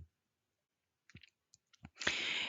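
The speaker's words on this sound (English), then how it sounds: "So you're going to click on there." Several sharp computer mouse clicks sound alone in a quiet room, followed by a louder, sustained broadband whoosh or rush starting near the end.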